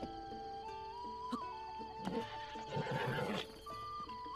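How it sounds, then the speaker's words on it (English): Horse neighing in the video game The Legend of Zelda: Breath of the Wild, a brief whinny with hoof clip-clops over quiet game music, fairly faint. "Good horse."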